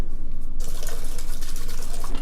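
Bottled water is poured into an electric tea kettle. A brief quiet gives way to a close, steady splashing stream that runs continuously to the end.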